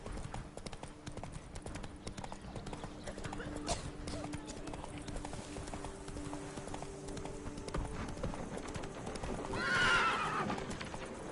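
Hooves of a horse galloping across Toussaint terrain in the video game Witcher 3, a fast steady clip-clop with game ambience and a whinny near the end, under spoken voices.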